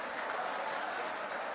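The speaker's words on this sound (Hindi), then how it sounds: "उनका भी जोरदार दोनों हाथ से ताली बजाकर स्वागत करें" A political rally crowd in Raipur applauds, a dense, faint wash of clapping from many hands heard at a distance, steady for the whole moment.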